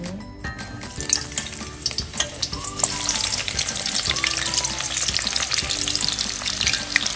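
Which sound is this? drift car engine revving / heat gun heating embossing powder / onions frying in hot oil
onions frying in hot oil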